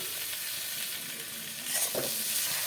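Spice masala with potatoes, a little water and tomatoes sizzles and is stirred in a pan, a steady close frying hiss with a louder burst of stirring near the end.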